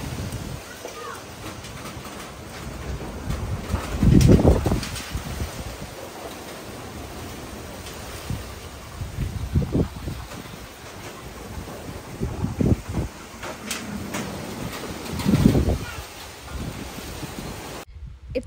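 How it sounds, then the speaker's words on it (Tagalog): Strong typhoon wind at night in La Union, Philippines roars and gusts against the microphone, surging in heavy rumbling bursts over a constant rushing background. "gabi na at sobrang lakas na po ng hangin"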